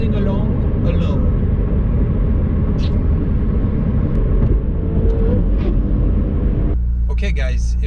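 A 2019 McLaren 720S cruises at highway speed around 75 mph, giving a steady loud road and engine drone throughout, with a brief change in tone near the end.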